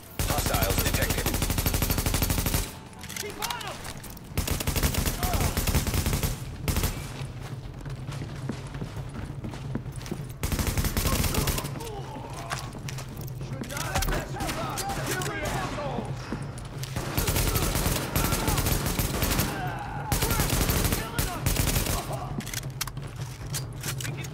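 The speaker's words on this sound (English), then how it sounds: "escort party's taking heavy fire from the roof" Gunfire in the video game The Division rattles in repeated loud bursts and sustained machine-gun volleys, broken by short lulls, with voices talking over the combat.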